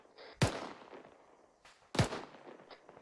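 Two heavy weapon blasts from a BMP armored vehicle in the video game RU:Havoc, a little over a second and a half apart, each a booming report with a rumbling tail, at moderate distance.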